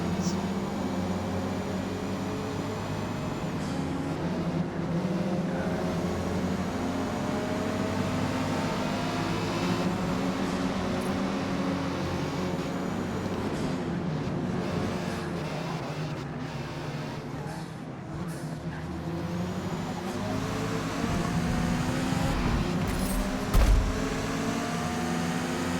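Mazda 323 race car engines in Forza Motorsport at the start of a race at VIR, a dense, steady layered drone of several cars running together throughout, with no talk over it.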